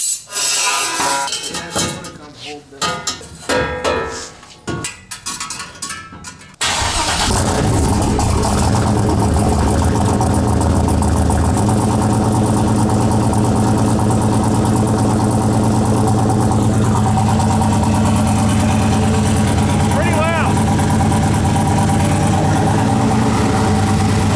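After some cranking and clattering, a loud turbocharged LS V8 in a street truck fires and settles into a steady, rumbling idle that continues to the end, with no talking.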